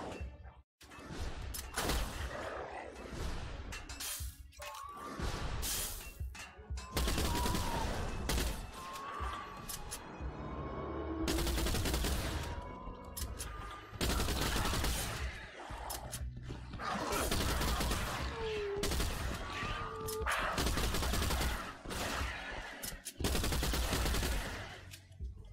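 Shotgun fire in the retro first-person shooter STRAFE, loud booming blasts repeated in quick bursts through the whole stretch, with a voice talking briefly between shots.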